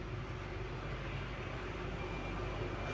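A low-flying airplane passes overhead with a steady, loud, broadband roar that fills the whole stretch without letting up.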